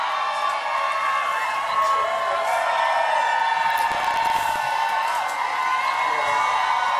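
Spectators at an all-star ultimate frisbee game cheer and shout in a loud, sustained roar with scattered whoops rising from the stands, continuous from start to end.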